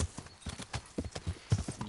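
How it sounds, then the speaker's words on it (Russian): A fast horse gallops in the medieval video game Kingdom Come, with rapid rhythmic hoofbeats thudding steadily and close throughout. "И на быстрой лошади, которая охереть какая быстрая."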